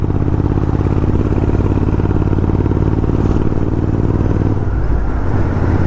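A motorcycle engine runs loud and close at a slow, steady pace on a mountain road toward Badrinath near Rudraprayag, giving a continuous rumbling drone with a rough, pulsing texture.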